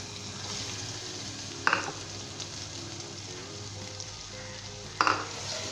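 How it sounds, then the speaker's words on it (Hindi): Ginger garlic paste frying with fried onions in a pan for a green chilli mutton dish, a steady low sizzle with two sharp clinks of a spoon against the pan. "हम इसके अंदर जो है अदरक लहसुन का पेस्ट डालेंगे।"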